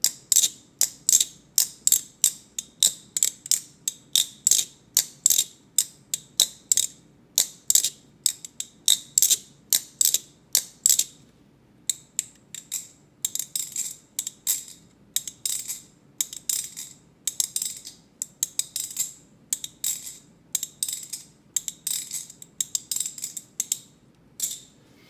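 Squid Industries Madko balisong with the ring silencer mod, its ring removed, being flipped: rapid, crisp metallic clicks and clacks in quick bursts, close and fairly quiet, with a short pause midway before flipping resumes.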